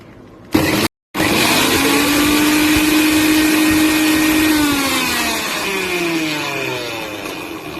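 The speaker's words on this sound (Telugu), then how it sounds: "భలే తిరుగుతుందండి, కొత్త మిక్సీ కదా." A new mixer grinder switches on after a brief click and pause, then whirs loudly and steadily, its motor pitch holding high before gradually winding down near the end.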